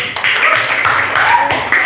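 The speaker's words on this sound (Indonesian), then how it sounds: "Beri tepuk tangan untuk kelompok 4" Students in a classroom clap for group 4 during an Islamic history lesson on the Prophet's Hijrah: a short, dense burst of hand claps, close and fairly loud, with no talking.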